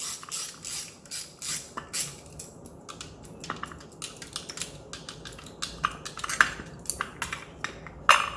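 A ratchet wrench clicks in repeated bursts while an alternator bolt is backed out on a Ford XR5 Turbo / ST225 / RS Mk2 engine, sharp metallic pawl ticking close up in uneven runs, with no talk.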